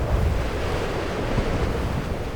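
Violent northeast monsoon wind sweeping across Longluan Lake, a constant rumbling rush with heavy low buffeting against the mic and a surf-like hiss, loud and continuous.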